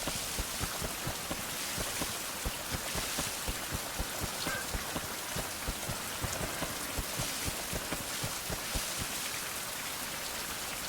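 Steady rain falls in the Survival: Fountain of Youth game world, hissing continuously with dense, close patter and scattered louder drops tapping throughout, with no voices.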